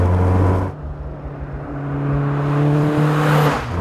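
A Caterham Seven 420R Donington Edition driving on a road, its engine holding a steady droning note with a rise in pitch as it pulls, close and continuous with wind rush.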